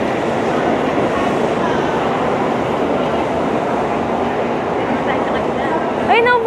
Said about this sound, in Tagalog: Bullet train yan, ay. Bullet train yan.